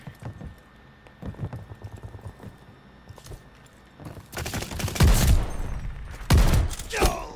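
Shotgun blasts in Call of Duty Vanguard: a few lighter shots early, then two loud close booming blasts near five and six seconds, with muffled game noise between.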